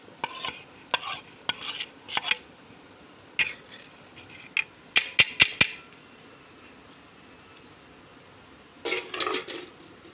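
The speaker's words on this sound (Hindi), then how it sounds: "दूध में अच्छी तरह इसको मिक्स करना है," Spoon stirring strawberry ice cream mixture into milk in a bowl, with clinking scrapes in short irregular bursts, close and moderately loud, separated by quiet gaps.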